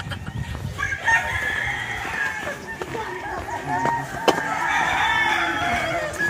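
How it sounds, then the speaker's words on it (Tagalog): A red rooster crows and clucks outdoors at Guintubdan, with a fairly loud, drawn-out call over steady outdoor background noise. "Ito yung manok na pula, guys, oh. Manok na pula, hello."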